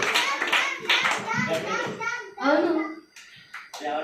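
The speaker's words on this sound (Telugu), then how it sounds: "గట్టిగా చప్పట్లు కొట్టాలి" Children at a kids' magic show clap loudly in several bursts, with a voice and other speech mixed in between the rounds of applause.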